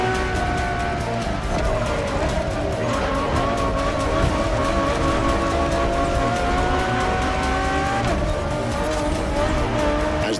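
A Ferrari Enzo supercar in The Crew Motorfest howls at high revs, a loud steady engine drone with rising and falling pitch through gear changes and faint tire noise, close and continuous throughout.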